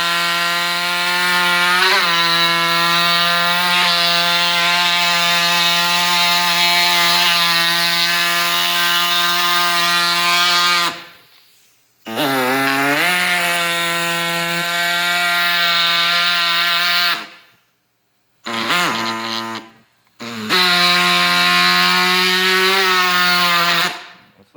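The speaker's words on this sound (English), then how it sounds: "This stuff blows right through plastic, so let's get these horns off this ram skull." A jagged-bladed power saw cutting the plastic horns off a ram skull: a loud, close, sustained buzzing whine that rises and falls with the pressure, broken by a few short pauses where the blade stops.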